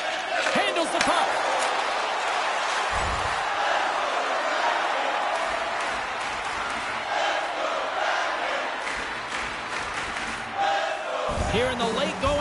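A hockey arena crowd in the video game NHL 26 roars steadily and loudly late in a tied period, with dull thumps near the start and end.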